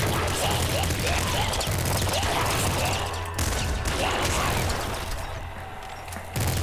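Gunfire bursts in a video game, dense and continuous, with booms and crashing impacts packed together at close range throughout.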